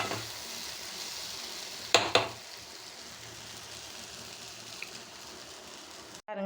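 Wheat puttu flour is stirred and roasted in a pan, giving a soft, steady sizzling hiss with a couple of sharp scrapes of the spoon partway through.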